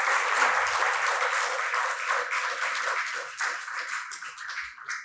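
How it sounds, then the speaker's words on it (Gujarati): An audience at a literary talk event applauds the three speakers with dense, sustained clapping that stays strong and then slowly thins over about five seconds, with no speech. "ત્રણેય વક્તાઓને એકવાર જોરદાર તાળીઓથી વધાવીએ"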